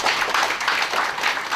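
Audience applause welcoming a guest at a public declaration ceremony, a dense, steady wash of many hands clapping, moderately loud and continuous for a short stretch with no voices over it.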